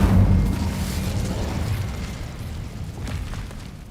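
Incendio fire spell cast in Hogwarts Legacy: a loud whooshing burst of flame erupts at the start, then rumbles and crackles steadily for several seconds before fading slightly, with no talking.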